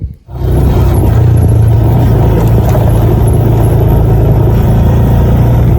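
A blue Yamaha Jupiter motorcycle engine runs close by in a remote village, giving a loud, steady mid-pitched drone and buzz that holds evenly throughout with no pauses and no talking.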